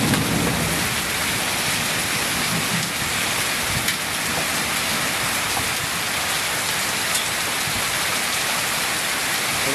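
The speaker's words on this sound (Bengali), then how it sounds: "প্রচুর পরিমাণে শিলাবৃষ্টি পড়তেছে, প্রচুর পরিমাণে।" Plenty of small hail and heavy rain falling in a Gazipur storm produce a loud, continuous wash of drumming on surfaces, steady and near for the full stretch with no voices.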